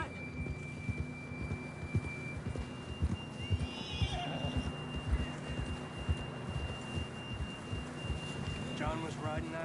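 A horse in the Red Dead Redemption 2 video game neighs and whinnies amid steady clip-clop hoofbeats and a soft musical drone, with a higher whinny rising around the middle and the riding continuing evenly.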